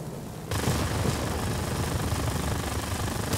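Aircraft gunfire in the World of Warplanes combat flight game: a loud, dense continuous roar of rapid shooting layered over engine drone, starting abruptly and holding steady to the end.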